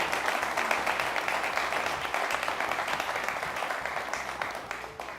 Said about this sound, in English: a round of applause for this wonderful studio audience